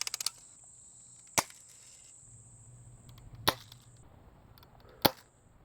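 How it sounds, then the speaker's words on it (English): Glock BB pistol fired into ballistic gel, a quick cluster of snaps followed by three separate sharp cracks spaced a second or two apart, close and crisp in a quiet room. "Here, I'm gonna just shoot a couple more and then I'll show y'all after."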